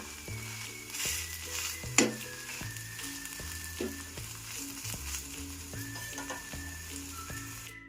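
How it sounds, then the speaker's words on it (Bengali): Steady sizzling from an egg-batter flatbread frying in a hot pan, with periodic scraping and a sharp metallic clink partway through; no talking. "এইভাবে উল্টে আমি অপর পিঠটাও ভেজে নেব"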